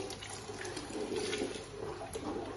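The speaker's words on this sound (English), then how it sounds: "I'm going to fetch water from the tap to add to it" Water runs from a kitchen tap into a cooking pot of soup in an Abuja home: a continuous splashing gush at moderate level, steady for the whole stretch without speech.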